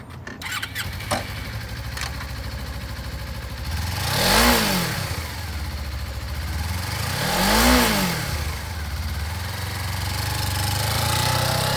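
A 2015 Suzuki GW250F lightweight sport twin motorcycle engine idles nearby and is revved twice, each rise and fall of the throttle clearly swelling above the steady idle.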